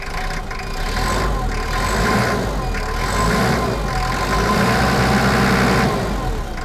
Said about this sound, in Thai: อยากให้ฟังเสียงเครื่องนะครับผม